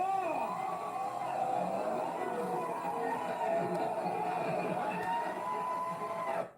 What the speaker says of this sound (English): Just notice how the crowd starts to turn on Wally, and they love Gypsy